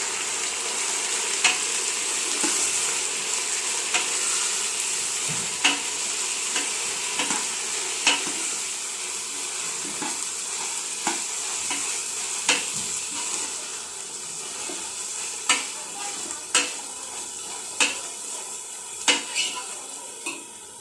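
Vegetables sauté in an oil-filled pan with a continuous sizzle, while a utensil scrapes and clinks against the pan in repeated stirring strokes, close and fairly loud.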